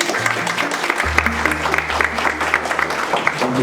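Steady applause from a crowd at a stock exchange opening bell ceremony, dense clapping with a low hum beneath and some voices mixed in.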